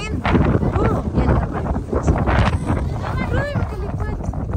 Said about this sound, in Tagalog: Grabe kalamig, grabe hangin.